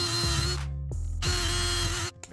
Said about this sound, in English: And we'll just drill these out.